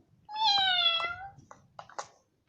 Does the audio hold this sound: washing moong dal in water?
no